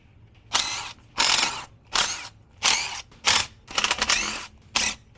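A ratchet loosening the 9/16 bottom bolts holding the pump plate on an Allis Chalmers tractor's hydraulic pump: seven crisp bursts of rapid clicking, close and loud, separated by short pauses, with no talking.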